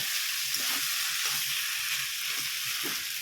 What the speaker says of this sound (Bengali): এখন এই যে চাউমিনটা ভাজা হচ্ছে